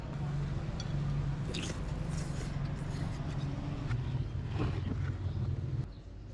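Close, wet chewing of ginger-flavoured food, with soft bites and squishy mouth sounds over a constant low rumble of background noise; no one speaks.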